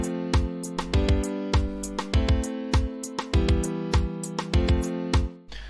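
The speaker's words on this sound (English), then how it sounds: "these chords are twice as long and it will sound like this" Sustained synthesized chords programmed in an FL Studio piano roll and stretched to twice their length, layered with a steady beat of low kicks and crisp high percussion, loud and upfront with no talking.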